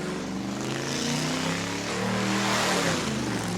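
A car's engine held at steady high revs through a tire-smoking burnout at a New Smyrna burnout contest, a continuous loud droning roar with a slight rise in pitch midway.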